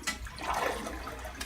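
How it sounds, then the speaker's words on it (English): A household toilet flushes to drain its tank, a brief, fairly faint rush of water lasting about a second. "then we're going to flush the toilet as many times as it'll let us"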